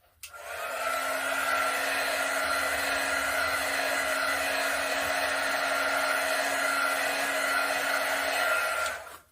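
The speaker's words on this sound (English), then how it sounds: "I'm just going to hit it one more time with a heat gun" A heat gun blows steadily over an acrylic paint pour, a close, even whooshing roar that switches on, runs unbroken for about eight seconds, then cuts off, with no voices.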